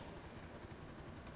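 A helicopter in the GTA video game flies steadily, a faint continuous rotor and engine drone with no talk.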